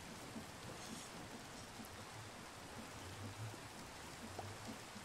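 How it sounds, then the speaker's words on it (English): Steady rain in a video game, a soft, faint even hiss with no other sounds over it. "Starting to rain. Brilliant."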